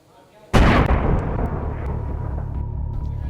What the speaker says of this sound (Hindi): एक भयानक धमाका और हरियाली के बीच बारूद का सफेद गुबार आसमान की ओर उठने लगा।